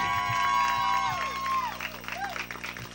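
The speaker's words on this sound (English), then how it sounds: "How about a nice round of applause?" Audience applause and cheering at a live comedy anniversary show, a burst of clapping and whoops that is loud at first and then thins and fades, with voices and tonal sounds mixed in.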